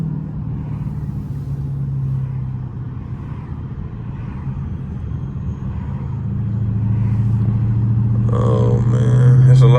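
A loud Dodge Hellcat driving through city traffic at night, its engine a deep steady rumble that swells toward the end as it revs harder.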